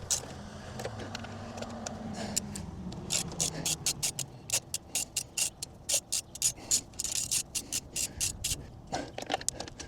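Ratchet clicking while removing two 10mm skid plate bolts on a Honda CRF300L Rally motorcycle, heard as bursts of rapid, close metallic clicks in runs, with a brief voice early on.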